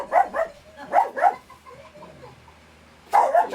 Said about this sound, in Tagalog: Yan, tumatahol na si Poppy.